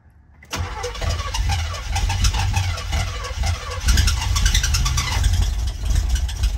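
The engine of a Chevrolet Monte Carlo SS with fresh fuel cranks over close by, sounding loud and continuous. It rumbles unevenly for several seconds after the starter kicks in.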